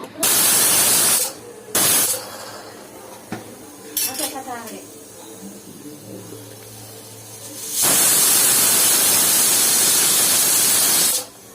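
Loud bursts of hissing steam from a pressure cooker whistle cooking khichdi, one short at the start and a long sustained release at the end, with clattering and faint talk between.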